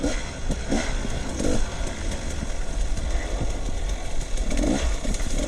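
Husqvarna TE300 enduro motorcycle engine on a backyard trail, a loud steady engine rumble with rough, uneven pulses running close by throughout.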